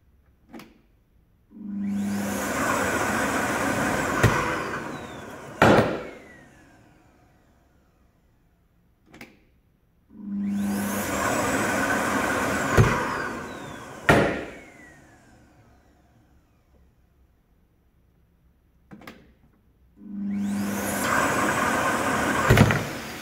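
A Festool CTL 26 E or Parkside Performance PPWD 30 A1 shop vacuum runs in three long bursts of steady roaring suction, hose sealed to an acrylic tube, each ending with a sharp clunk, separated by short quiet gaps.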